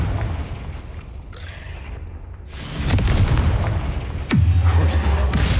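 Fiery Confringo spell blasts in Hogwarts Legacy, heard as booming explosive bursts with a sharp loud impact near the end over a constant rumbling game soundscape.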